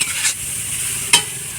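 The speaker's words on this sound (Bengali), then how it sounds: "এবার এই কচুর ডাঁটাগুলো দিয়ে দেবো।" Taro stalks dropped into spice paste in a pan, giving a steady frying sizzle with two short bursts of stirring, close and fairly loud with no talk.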